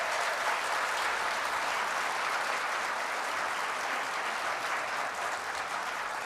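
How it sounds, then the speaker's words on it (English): An audience at a Plano ISD MLK celebration, a school event, claps in steady, dense applause that stays loud and even for the full stretch, with no voices rising above it. "That's just a big clap."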